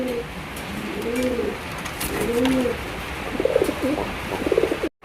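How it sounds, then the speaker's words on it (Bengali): A male pigeon coos in repeated soft, rounded, throaty phrases, close by, over steady background noise from a bird market. "এটা হলো নর কবুতর।"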